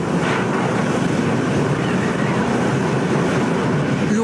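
Strong Hurricane Irma wind buffets an outdoor microphone at the port of Gustavia, a loud, steady roar with rumbling gusts and no pauses throughout.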